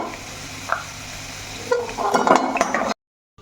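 Diced potatoes fried until reddish are lifted out of hot oil, giving a steady close sizzle with a few spoon scrapes and clinks that grow busier near the end before cutting off.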